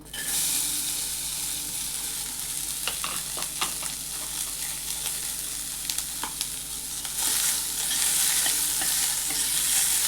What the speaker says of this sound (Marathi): आता इथे त्याच कढईमध्ये आपल्याला कांदा भाजून घ्यायचा आहे.